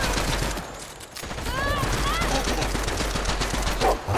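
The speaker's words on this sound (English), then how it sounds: "You just shot me." Rapid video-game gunfire crackles through a dense wash of game noise, with bursts of automatic fire and a few whistling tones running throughout the clip.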